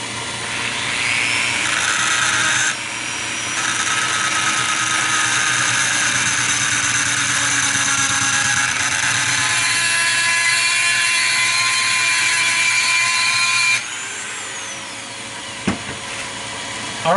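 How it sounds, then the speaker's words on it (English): A rotary tool with a grinding stone whines steadily and loudly against a Crosman 2240 cocking hammer, a high sustained tone with slight pitch shifts as pressure changes, easing off near the end with a brief clack. "Once we grind down the bulk of it, then we'll go over to the file."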